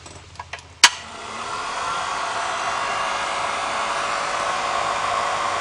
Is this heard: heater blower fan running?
yes